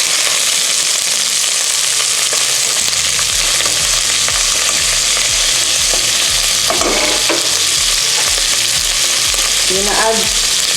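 Chopped onion, garlic and ginger fry loudly in a very hot pan, a dense continuous sizzle with rhythmic scraping and stirring knocks throughout, close-up and with no one speaking.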